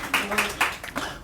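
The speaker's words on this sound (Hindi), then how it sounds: "आज क्या बात एक बार ज़ोरदार तालियां और होनी चाहिए" An audience at a community foundation event gives a few quick, scattered claps. They are fairly faint, with a murmur of voices underneath.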